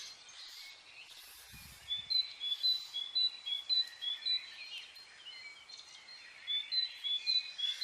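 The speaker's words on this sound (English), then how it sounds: "So yeah, I have a pretty good alarm clock in the birds." Many small birds chirp and tweet outdoors in the morning, a steady overlapping chorus of short repeated calls at moderate distance, with a brief low thump near the start and no talking.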